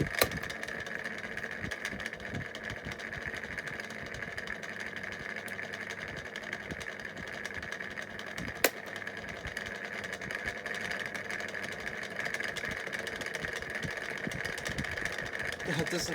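A 2002 Lloytron 9-inch desk fan spins with a steady, rough motor hum and a faint rattle that runs the whole time, broken once by a single brief click.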